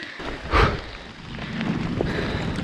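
Rain falling hard at a shelter on a mountain pass, a dense continuous wash of drops on surfaces with a brief louder rush early on, close and steady with no voices.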